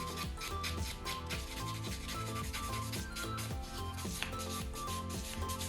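A 100 grit nail buffer is filed back and forth over a nail, giving soft, steady rubbing strokes in a continuous, even rhythm, quiet and close with no talk.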